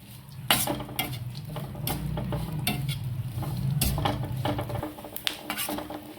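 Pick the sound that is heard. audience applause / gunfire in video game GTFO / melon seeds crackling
melon seeds crackling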